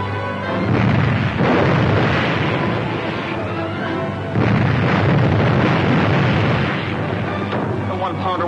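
A one-pounder naval gun fires repeatedly, heavy booming blasts rolling into one another in a loud, sustained barrage with little pause between shots, close and dense throughout.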